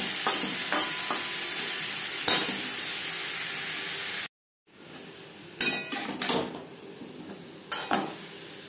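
Boiled potato pieces stir-fried with cauliflower in a pan, giving a soft sizzle with scattered clinks and scrapes of a spatula. A short silent gap falls midway, after which sharper knocks and stirring noises return, close and with no voices.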